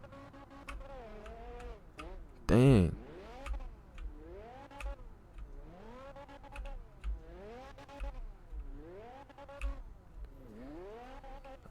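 A diesel engine in the Fix It Up video game revs repeatedly, its pitch rising and falling in regular waves under a ticking idle. There is one loud burst partway through, and a voice speaks briefly.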